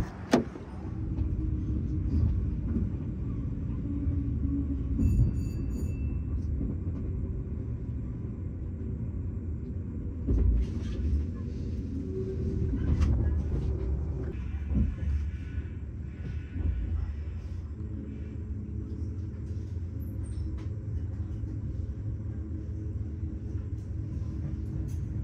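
Interior of a train on a ride to Düsseldorf, with a continuous low rumble and running noise, occasional knocks and a brief whine, steady and close, with no talking.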